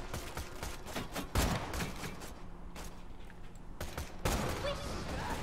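Rapid automatic fire from an assault rifle in the shooter game Borderlands 2, continuous bursts of shots with brief pauses, dense and steady throughout, under faint game ambience.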